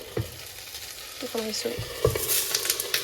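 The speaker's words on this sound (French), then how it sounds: "on a du riz et je vais mettre dedans des petits poivrons" Rice and small peppers sizzle loudly in a frying pan close up, with scraping stirs and bursts of crackling that build over a few seconds.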